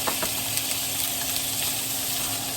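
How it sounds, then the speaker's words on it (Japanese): Carrots, enoki mushrooms and minced meat stir-frying over high heat in a pan, a steady crackling sizzle with a few sharp pops, close and continuous, no voices. "人参、えのき、そぼろを加えて強火で2分。"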